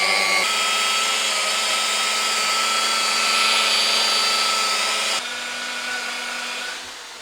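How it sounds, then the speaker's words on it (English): Power polisher buffing paint on a BMW X1, a steady high whirring drone that runs close and continuous, then drops in level near the end as it slows. "We'll just buff it back up."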